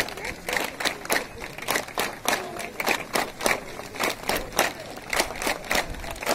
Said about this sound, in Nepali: सहभागीहरुलाई ताली बजाइदिनको लागि म हार्दिक अनुरोध गर्छु